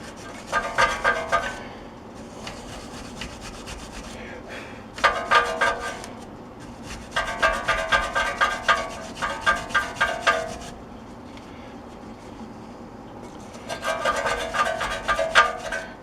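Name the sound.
wire brush scrubbing brake caliper where the pads ride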